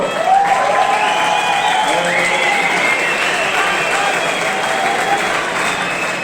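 Concert audience in a Zaragoza music hall applauding two singers, a dense, steady wash of clapping with some cheering throughout, loud and close.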